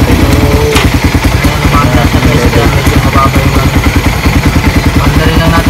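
A Suzuki Raider 150 motorcycle idles close by, a loud, even putter of rapid regular engine pulses with light mechanical clatter, running continuously while a voice speaks over it.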